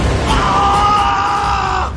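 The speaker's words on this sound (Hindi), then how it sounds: "आखिरकार गुस्से में झल्लाकर चीखा" A man's loud, sustained scream of anger from a horror audio story, one strained cry that holds for nearly two seconds over a low background rumble.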